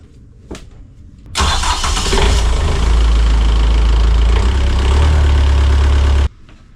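A boat engine on a sailing boat in the Bahamas starts up after the battery is rewired, catching after a click and settling into a loud, steady, rumbling idle up close before cutting off.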